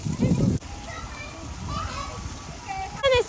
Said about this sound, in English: Splash pad and that's a swimming spot.